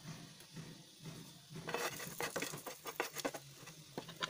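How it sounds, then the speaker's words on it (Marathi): Cinnamon, cloves, pepper and star anise sautéing in oil, a soft patter that thickens into rapid crackles and light utensil taps in the second half, close but fairly quiet. "आता हा मसाला तेलात परतून घ्यायचा आहे।"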